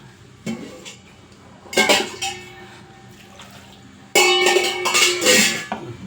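Metal pots and a pressure cooker clank and clink as vegetables go in, with a splash of water in a home kitchen; loud bursts of clattering separated by quieter pauses.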